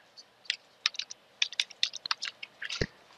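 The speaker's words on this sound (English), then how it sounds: "and type AppGrid." Typing on a computer keyboard, a dozen or so light, irregular key clicks close by in a quiet room, ending with one heavier tap.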